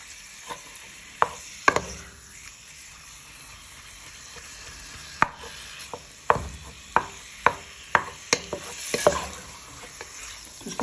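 A wooden spoon stirs browning pork in a hot pan, giving a run of close, distinct knocks and scrapes over a soft continuous sizzle, faster and bunched toward the end, with no talking.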